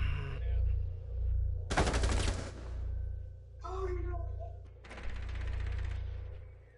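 Gunfire in Rainbow Six Siege comes in short, loud bursts of rapid automatic shots separated by quieter stretches, over a low constant game hum with clicking effects.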